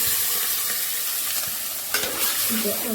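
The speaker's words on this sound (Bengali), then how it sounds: "ভালো করে আমি একটু কষিয়ে নেব মাংসটা" Meat frying and being stirred in a pan with a paste of onion and nut, ground coriander-cumin, ginger, chilli and turmeric, giving a steady close sizzle with scraping stirs and a louder burst of frying near the end.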